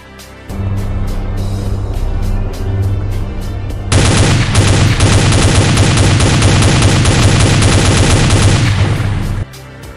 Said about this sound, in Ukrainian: Саме цим кулеметом, думаю, потрібно було відбивати волни мутантів, які насувалися на ангар.